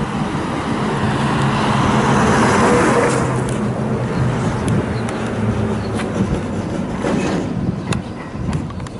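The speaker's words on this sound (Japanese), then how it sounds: "ダンプカーがですね、もうすごい走ってまして" Heavy dump trucks rumble past on a road near the Okawa elementary school site in Ishinomaki, a loud continuous roar of engines and tyres swelling and fading as traffic passes, no talking.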